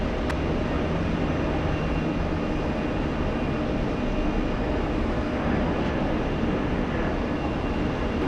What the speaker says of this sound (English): We have a 777 starting up.